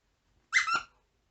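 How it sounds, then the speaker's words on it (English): A Frisco Halloween Boo plush squeaky dog toy gives a single short squeak, two quick pulses close by, in otherwise silent surroundings. "the Halloween Boo plush squeaky toy"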